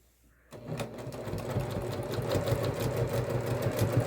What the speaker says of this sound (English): my machine can go through this, so I'm going to go ahead and sew these together rather than pinning.